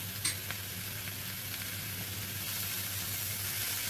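Pancit noodles, mixed canton and bihon, stir-fried in a pan, with a soft steady sizzle and a couple of faint scrapes early on, quiet and close.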